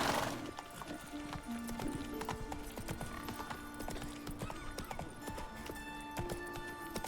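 Hooves of Roach, Geralt's horse in The Witcher 3, clip-clop in a steady rhythm over background game music, with a possible soft whinny.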